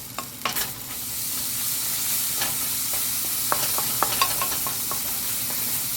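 Chili and tomato sizzle steadily in a frying pan while a utensil stirs them, with a few scrapes and taps standing out over a continuous close hiss.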